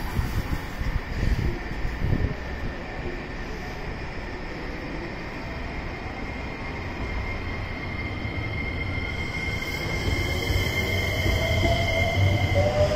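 A train at JR Osaka Station bound for Kansai Airport and Wakayama rumbles steadily at close range, with a low continuous roar and a faint high-pitched whine that grows slightly louder toward the end.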